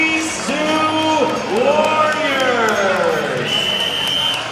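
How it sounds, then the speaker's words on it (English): Crowd at a Long Island boxing match cheering and whooping between rounds, a loud continuous roar of voices with an announcer speaking over it. "Let's get a big Long Island round of applause for these two"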